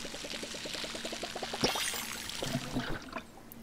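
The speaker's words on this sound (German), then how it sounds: "Wir müssen das aber mal eben gießen." Watering plants with a watering can in the farming game Palia: a light trickle of poured water with a rapid, regular ticking underneath, then a brief splash and softer dribbles, fairly quiet and with no talk.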